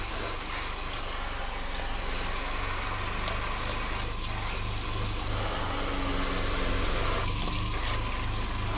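Water runs steadily from a tap while bok choy is washed, a continuous close rushing and splashing with no pauses and no talking.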